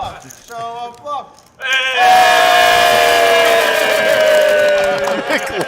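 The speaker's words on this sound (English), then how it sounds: "The crowd goes wild for the bluff." A crowd at a no-limit hold'em poker table erupts after a bluff, with loud sustained cheering and shouting that swells and holds after a couple of brief voices.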